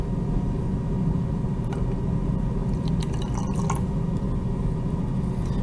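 A 4% borax solution is poured into a glue and water mixture, with soft liquid trickling and a few drips over a constant low background hum.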